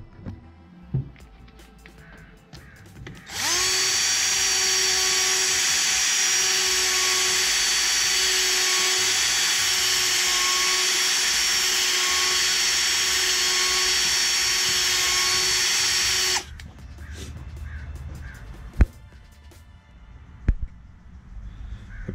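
A power tool grinds the rough composite plastic of a 392 Hemi intake manifold plenum, a steady loud high-pitched whine running about thirteen seconds before cutting off, with quiet workshop sounds before and after.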